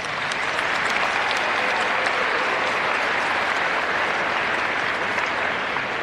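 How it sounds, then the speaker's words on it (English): A large crowd at a high school graduation ceremony applauding steadily, a dense continuous wash of clapping that holds at an even, full level for several seconds with no talk over it. "Let's give them a round of applause"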